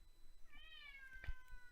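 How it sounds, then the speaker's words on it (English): A house cat gives a single clear, drawn-out meow of about a second, faint and somewhat distant in a quiet indoor room, with no one speaking. "Oh, quiet cat."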